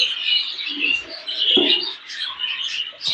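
Small birds in an aviary chirp and twitter continuously and fairly close, with a few soft lower calls mixed in.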